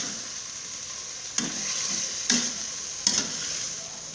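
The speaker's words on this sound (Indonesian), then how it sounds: "Aduk kembali." Beans, carrots and fried tofu stir-fried in a pan, a steady sizzle with three brief stirring scrapes spaced about a second apart, close and moderately loud.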